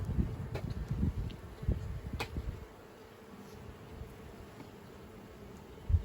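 Honeybees buzz low and faint in a small nucleus hive box for the first few seconds, a soft rustling drone that fades to near quiet.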